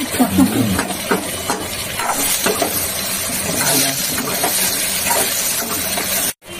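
Ingredients for bhuna khichuri, including ginger, fry in a pan with a continuous close sizzle and hiss, broken by scraping stir strokes and brief clatters, then cut off abruptly near the end.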